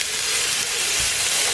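Food fries on a Cadac portable gas cooker, a loud, steady, close hiss and sizzle with no breaks.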